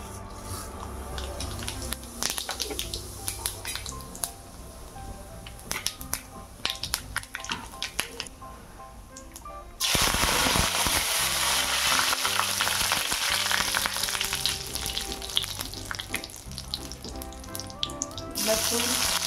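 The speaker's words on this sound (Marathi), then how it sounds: "तेल तापले, आता मी इथे जिरे आणि मोहरीची फोडणी देणार आहे।" Cumin and mustard seeds crackle in hot oil in a kadhai, with scattered sharp pops at first that burst into a loud, dense sizzle about halfway through and carry on to the end.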